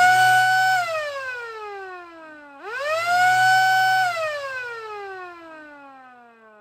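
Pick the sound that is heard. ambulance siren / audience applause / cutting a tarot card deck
ambulance siren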